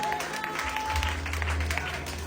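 Church congregation applauding and cheering in praise of the Lord at an evangelical gathering, a dense, steady wash of clapping with crowd voices mixed in throughout.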